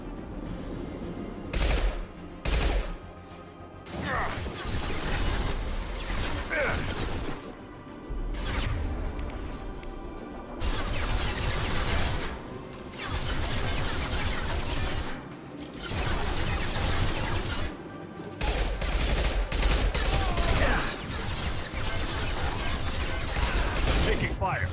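Gunfire rattles in the sci-fi shooter Mass Effect 2 Legendary Edition, long bursts of rapid shots broken by short pauses, loud and close, with voices talking over the fighting.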